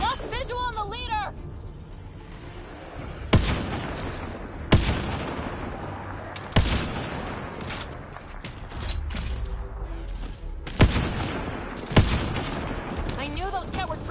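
Sharp bursts of gunfire in Mass Effect Andromeda crack out at intervals over a busy background of music, effects and voices.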